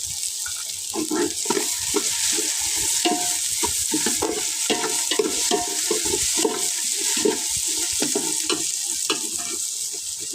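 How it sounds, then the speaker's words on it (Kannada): Curry leaves frying in a pan for Karnataka-style chicken curry, giving a loud, dense crackle and sizzle with continuous stirring and scraping, close up and without talk. "ಚೆಂದ ಫ್ರೈ ಆಗಬೇಕು."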